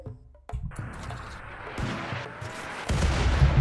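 Modded starship guns fire a volley in the colony game Rimworld: three heavy booming shots land about a second apart, each followed by a rumbling tail, the last one loudest.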